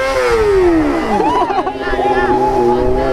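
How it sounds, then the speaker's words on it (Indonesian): A Kawasaki ZX25R motorcycle revs up close on a busy Saturday night street, its high-pitched engine wailing up and down in repeated bursts while a crowd chatters nearby. "Geber nih, geber nih."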